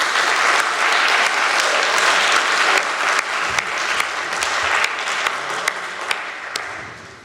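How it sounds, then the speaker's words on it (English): A live audience gives sustained applause for singers at a lecture event, a dense, steady wash of clapping lasting several seconds with no talk over it. "give them a big round of applause"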